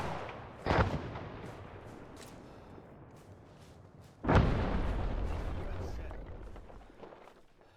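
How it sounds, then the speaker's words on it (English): A rocket launcher fires in Arma 3, first a sharp bang and later a heavy booming launch with a long rumbling tail, while players talk over radio. "Back blast clear. Clear. Rocket, rocket, rocket."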